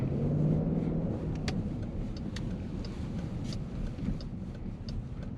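A 2021 Dodge Durango R/T driving on the road, a steady low rumble of engine and road noise with a brief rising engine note at the start and faint ticking sounds over the top.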